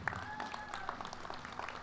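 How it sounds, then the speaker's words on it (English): Faint, distant applause comes from a crowd at the opening ceremonies of a Choctaw fair, a soft patter of clapping with a thin tonal whistle over it and murmuring voices underneath. "Let's give her another round of applause"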